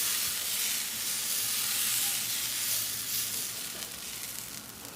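Rava adai batter spread on a hot dosa pan gives a steady, bright sizzling hiss that holds evenly for several seconds and eases slightly toward the end, close up with no voices.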